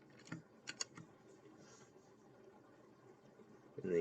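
A few light keystrokes on a computer keyboard, typed while entering values for descriptive statistics, come in a quick cluster near the start and then give way to a quiet room.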